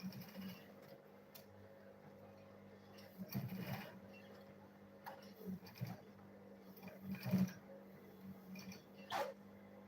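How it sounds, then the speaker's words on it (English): A sewing machine stitches two sides of a handmade school bag before leather is added, running quietly in short bursts with faint taps and clicks over a low hum. "still sew these two sides before I will add it on the leather that I'm using"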